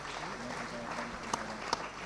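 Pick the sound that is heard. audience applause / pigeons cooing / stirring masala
audience applause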